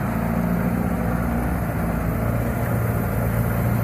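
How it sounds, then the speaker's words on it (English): A sailboat's engine idles at anchor on the Chesapeake Bay with a steady, loud low rumble that stays even and unbroken throughout. "Got the engine running."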